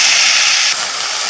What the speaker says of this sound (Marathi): आता लसूण चांगला तळसायला लागलाय.